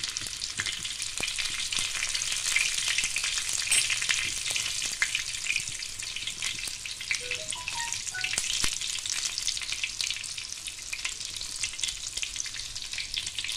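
Mustard seeds, cumin and two green chillies fry in a pan for egg bhurji, giving a quiet, continuous hiss dotted with sharp crackles and pops. No voices are heard.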